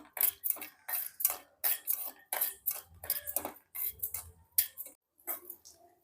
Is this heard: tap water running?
no